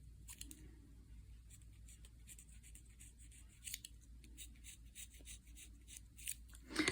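A knife shaves along the left side of a reed during reed repair, producing faint, close, irregular scraping strokes in short bursts over a quiet background, with a louder rustle at the end and no speech.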